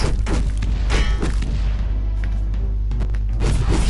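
Cannon fire in the PS4 video game Devious Dungeon: several heavy booms spaced a second or so apart over a low, continuous game soundtrack.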